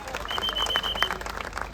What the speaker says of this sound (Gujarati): એમને પણ જોરદાર તાળીઓથી આપણે વધાવી લઈએ